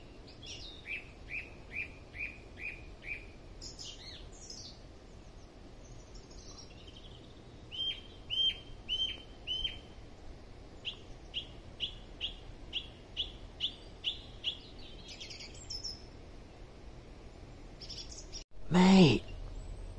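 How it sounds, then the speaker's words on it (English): Birds call repeatedly near a narrowboat cruising toward York, with clear rhythmic chirps and trills that come in several bursts over a low hum. A short loud clunk sounds near the end. "Bird song's amazing."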